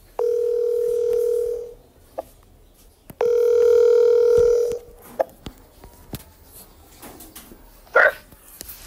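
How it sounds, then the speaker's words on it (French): Telephone ringback tone on an outgoing call to a friend, two long steady beeps separated by a pause, loud and close, followed by faint clicks and a brief noise burst. "Alors j'ai appelé un ami, Ardent Design."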